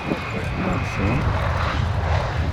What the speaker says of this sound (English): came outside to watch the Catalina overflying his home in Aberdeen